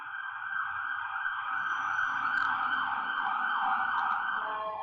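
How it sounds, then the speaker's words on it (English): An ambulance siren passes by outside during a temple service, its wailing tone sweeping up and down steadily and loudly for the whole stretch with no voices over it. "Right now the ambulance is passed by."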